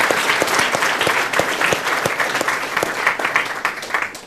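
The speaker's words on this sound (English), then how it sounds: "one big round of applause for my timing team" Crowd at a school orienteering championship gives a loud, lively round of applause for the timing team, with some sharp individual claps standing out from the dense clapping throughout.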